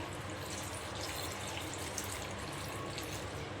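Water poured into a pot of prawn curry cooked with raw green mango and curry leaves, a steady close splashing rush that holds even for the whole stretch, with no talking.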